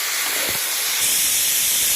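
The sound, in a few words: mushrooms frying in a pan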